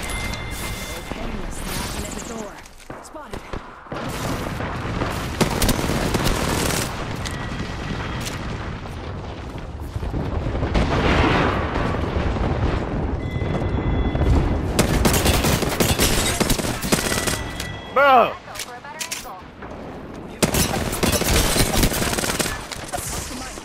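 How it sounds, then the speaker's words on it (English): Apex Legends gunfire comes from several shooters at once: bursts of shots and heavier booms pile up in a chaotic, loud firefight with short lulls, while a voice talks throughout. "Somebody's shooting at me in stationary mode. I got like three people shooting at me."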